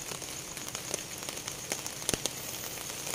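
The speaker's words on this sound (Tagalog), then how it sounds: "naambon. Ulan na." Steady rain patters on a tarp overhead at a campsite in Tanay, with a constant hiss and scattered louder drops tapping the surface.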